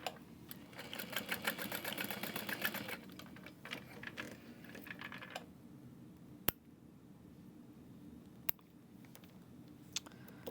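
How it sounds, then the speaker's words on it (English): A domestic sewing machine stitches down the side of a bucket bag in a burst of rapid mechanical whirring, then stops, leaving quiet room tone broken by a couple of sharp clicks. "Make sure they're lined up. And stitch down the other side."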